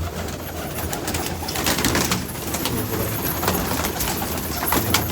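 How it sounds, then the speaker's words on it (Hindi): A flock of about 170 black Chand pigeons coos on a rooftop, a continuous layered murmur of soft cooing with wing flutters and movement throughout. "सारे काले चांद ने, ये 170 कबूतर है भाई।"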